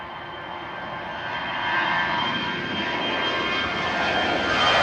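A Swiss Airbus A321 jet lines up at Manchester Airport, its engines a steady whine and rush that swell gradually louder, heard from a moderate distance with no voices.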